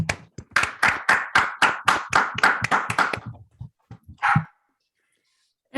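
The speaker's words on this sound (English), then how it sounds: "Let's do a round of applause if everyone can please unmute, and then I'll count to 3 and then we'll clap." Seminar participants on a video call clap together after a count, a burst of ragged, slightly uneven hand claps lasting about three seconds, followed by a few stray claps and then silence.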